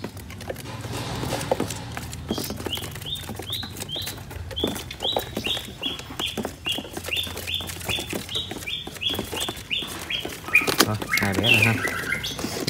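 Caged songbirds offered for sale chirp in a rapid, regular series of short bright notes over a busy background of clattering and knocking, moderately close.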